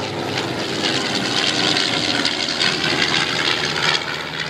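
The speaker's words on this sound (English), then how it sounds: "B25, one engine stopped." A B-25 Mitchell bomber flies past at an air show with one engine shut down, giving a loud, steady broadband engine roar and rush of air that holds evenly throughout with no speech.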